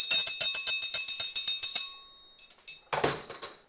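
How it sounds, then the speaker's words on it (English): A one-handed triangle rings out in a rapid run of bright, shimmering metallic strikes for about two seconds, fades, then returns with a short, louder burst of jingling near the end, close and clear with no talking. "This is a one-handed triangle."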